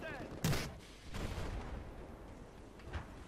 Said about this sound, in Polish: Przeładowuję i strzelam drugi raz, ponieważ widzę tam więcej przeciwników.